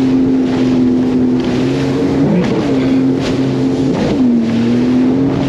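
Motorboat ploughing through rough, windy Lake Erie water near Port Colborne, its engine droning steadily with dips in pitch as the hull slams into waves around two and four seconds, wind noise throughout.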